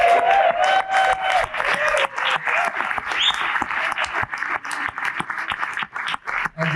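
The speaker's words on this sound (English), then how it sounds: "Give them all a cheer." A crowd applauds and cheers for the competitors at an outdoor porridge-making championship in Carrbridge, Scotland, with dense, loud clapping that goes on throughout and thins out slightly near the end.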